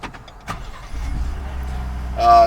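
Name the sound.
Ford F-150 truck engine started with remote start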